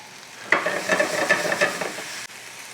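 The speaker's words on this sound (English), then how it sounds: "We are back at the point, we are browning onions." Onions brown in a hot pan with a steady close sizzle, broken by a few scraping stirs in quick succession before the frying hiss settles back alone.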